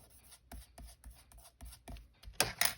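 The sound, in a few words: trimming glued paper for a page pocket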